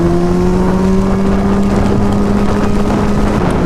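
A Yamaha FZ6 motorcycle rides in wet weather: a loud, constant engine drone with steady tonal hum sits under a broad rush of wind and road spray, with no change in pace throughout.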